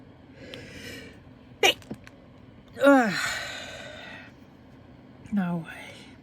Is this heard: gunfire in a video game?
no